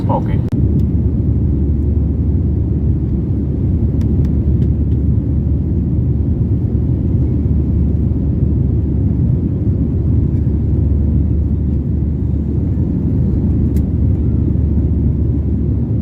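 Steady, loud low roar of an airliner cabin in flight on a trip to or from Dubai, a constant engine and airflow rumble holding evenly throughout with no talk over it.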